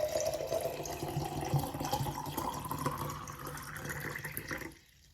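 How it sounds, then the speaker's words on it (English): Water pours steadily into a jug, a close, continuous gurgling stream whose pitch rises as the vessel fills, then stops abruptly. "next up is some ASMR of water pouring into a jug for you guys."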